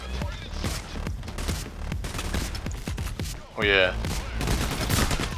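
Gunfire in the video game Payday: The Heist during a diamond heist, a dense fusillade of rapid shots and bursts mixed with loud talk, with a sharp metallic ringing hit near the end.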